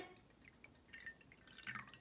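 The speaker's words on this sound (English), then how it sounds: "pour some water into a bowl or plate" Water trickles and drips into a bowl for a pepper, water and soap science experiment, a faint, close series of small splashes and droplet ticks with no talking.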